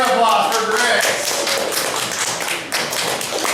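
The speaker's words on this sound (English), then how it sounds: "Another applause for Grace." An audience at a poetry open mic applauds with a dense burst of hand clapping that starts strong and gradually thins out, and a voice is heard over it.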